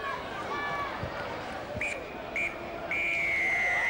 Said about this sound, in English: Des Wood blowing his whistle for half time